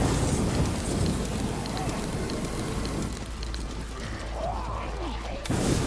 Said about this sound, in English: So it is raining